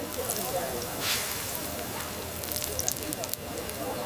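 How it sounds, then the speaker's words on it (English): Corn cake frying on a cold morning in Sapa, giving off a steady, dense crackling sizzle with a faint hiss throughout, close up and fairly loud. "Listen to that sizzle winter music"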